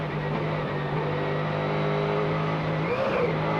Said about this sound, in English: Hear the wheel spin.